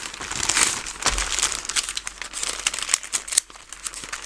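Sheets of hydration palette paper crinkle and rustle as they are unpacked from a box, a busy run of close, crisp crackles and crumples with uneven bursts.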